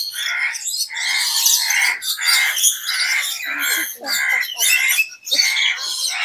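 Birds at a bird sanctuary in Malaysia squawking loudly and continuously, harsh overlapping calls close by with bursts of chirping throughout.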